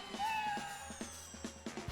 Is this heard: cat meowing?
yes